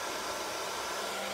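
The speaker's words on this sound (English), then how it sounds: "So you can use your hair dryer to dry it a little bit." A hair dryer blows with a steady, even rush of air, a constant whir that never changes pitch, and no voices can be heard.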